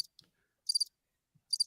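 Crickets chirp in short, sharp high-pitched bursts, two clear pulses separated by near silence, quiet and isolated like a sound effect.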